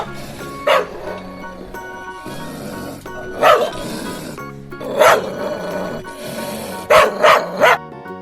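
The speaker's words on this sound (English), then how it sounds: "African wild dog," An African wild dog gives a few short, sharp barks spaced several seconds apart, moderately loud over a steady background wash, with no talk.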